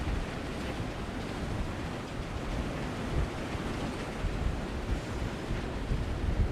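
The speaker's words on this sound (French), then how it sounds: "Il y a tout plein de vagues qui arrivent." Waves break steadily along the Scottish coast, a loud, dense roar of surf mixed with wind buffeting the microphone, continuous for several seconds with no voices.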